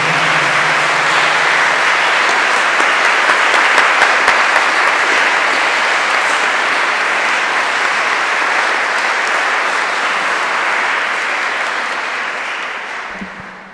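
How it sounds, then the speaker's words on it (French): Sustained applause from a congregation at a French religious celebration of final vows and a 25-year jubilee, a thick, steady roar of many hands that carries on for over ten seconds before tapering off. "Nous tous, on peut vous applaudir de participer à cette belle journée"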